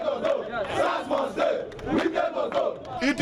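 Crowd of protesters marching against SARS toward the Rivers State Police Command headquarters, a dense wall of chanting and shouting voices rising and falling in rhythmic bursts, loud and close throughout.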